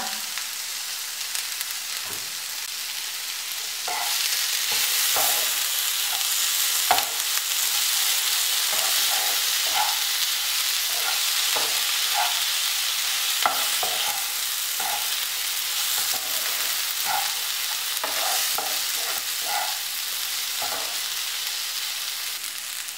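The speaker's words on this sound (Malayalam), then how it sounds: "ഒരു നുള്ളു ഉപ്പ് ചേർത്ത് വഴറ്റാം." Chopped tomatoes with a pinch of salt sauté in a hot pan, a continuous loud sizzle broken by scattered scrapes and clicks as a spoon stirs.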